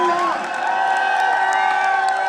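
A crowd at a function cheers, shouts and claps together in a loud, steady roar that stays unbroken from start to finish, with high whoops rising over the noise.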